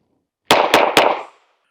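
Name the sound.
handgun shots fired at a range target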